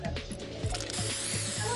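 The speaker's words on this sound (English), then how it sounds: "The spray paint is getting stuck." Spray paint hisses steadily in a video game, a dense broadband spray laced with rapid ratcheting clicks and low rhythmic thumps, close and fairly loud throughout the short burst.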